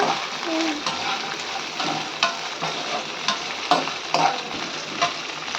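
Peanuts fry in hot oil in a pan for a chutney pickle, a steady crackling sizzle punctuated by periodic scraping stirs and clinks, close and moderately loud.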